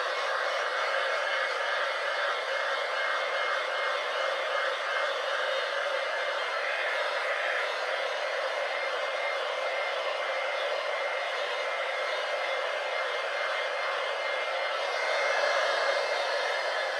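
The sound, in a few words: heat gun warming epoxy glitter coat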